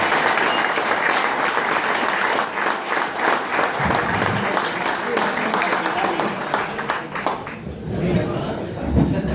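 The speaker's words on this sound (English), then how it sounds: "Give a big round of applause for Jim Magilton." A lunchtime club audience at a football club Q&A breaks into sustained, dense applause that fills the room for the whole stretch, with scattered voices and cheers mixed in.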